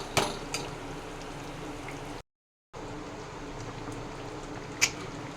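Chicken korma masala sizzles and sputters in a pan as it is sautéed, a steady crackling hiss with a few louder pops and a short gap of silence partway through.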